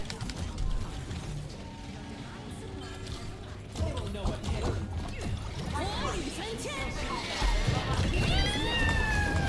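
A cat meows repeatedly with rising, wavering cries in the second half, loud and close, over a busy background where people talk and shout excitedly.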